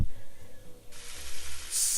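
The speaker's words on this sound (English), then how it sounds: "the first image that we're going to go ahead and take a look at is going to be the frying of bacon" Bacon frying in a pan, recorded as a Foley stand-in for rain: steady crackling sizzle and hiss that grows brighter and louder toward the end, heard alone.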